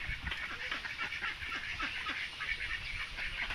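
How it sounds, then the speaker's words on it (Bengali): A flock of domestic ducks quacks and chatters continuously at close to moderate distance in a village setting. The calls overlap in a busy, rapid patter with no talk over them. "যে হাঁসেরা দেখো প্যাক প্যাক করতেছে।"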